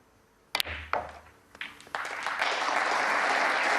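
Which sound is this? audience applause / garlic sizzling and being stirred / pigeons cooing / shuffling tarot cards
audience applause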